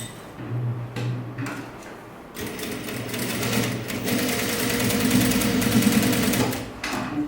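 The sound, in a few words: sewing machine stitching a seam on a sleeveless top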